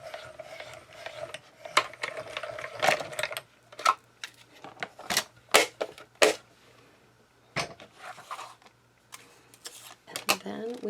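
Hand-cranked die-cutting machine rolling card stock through, a series of sharp irregular clicks and ratcheting bursts up close, with quieter gaps between.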